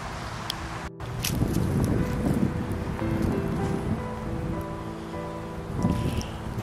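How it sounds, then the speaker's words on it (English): Gusty wind buffeting the microphone in a low, rumbling roar that continues steadily, with faint water or surf noise underneath. "it is a little bit windy out here"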